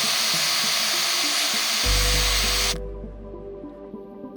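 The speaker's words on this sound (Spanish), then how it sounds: "Lo calentamos con el soplete. Y soldamos el tapón y el tubo de la válvula." Blowtorch flame roaring steadily as a valve tube and cap are heated and soldered into a refrigeration boiler, a broad hiss that cuts off abruptly, leaving a low lingering hum.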